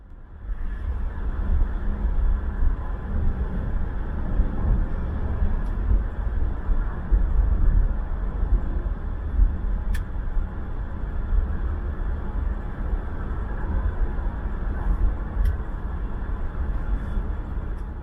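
A 2019 Volkswagen Jetta cruising through a sweeping corner, heard from inside as a steady low road and engine rumble with broadband tire noise, continuous and even, no talking.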